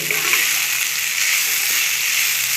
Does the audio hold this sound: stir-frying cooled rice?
yes